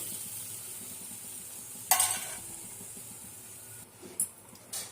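A sudden loud hiss of tamarind water poured into a hot pan of pirandai curry, fading into a steady sizzle with a couple of brief bursts after.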